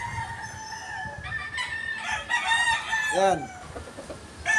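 Chickens on a farm: a rooster crows loudly and pullets cluck nearby, with someone speaking over the birds throughout.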